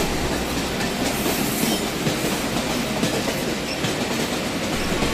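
A running train rumbles steadily with a continuous rattling clatter of wheels on track, dense and unbroken from start to finish with no voices.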